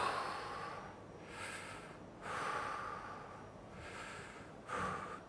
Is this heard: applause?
no